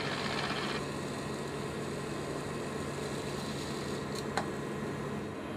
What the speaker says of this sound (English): Watch the spinner's gears and the spinner top as I release it from the handle.